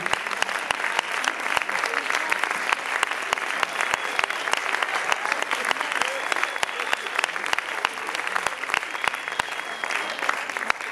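An audience at a synagogue Purim shpiel claps steadily for a performer playing Donkey, dense broadband applause filling the whole stretch at an even level, with faint talk and murmuring mixed in beneath.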